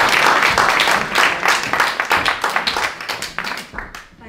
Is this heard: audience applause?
yes